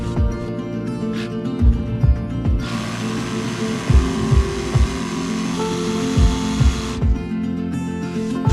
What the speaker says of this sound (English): delicately wield the jigsaw around these fine details